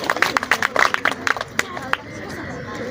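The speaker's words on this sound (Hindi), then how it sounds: "जब तक मेहमान यहाँ तशरीफ़ लाते हैं आपकी तालियों की गूंज लाजमी आनी चाहिए" Audience clapping to welcome a chief guest at a formal event, a brisk scatter of sharp hand claps close by with chatter, fading out after two seconds into room murmur.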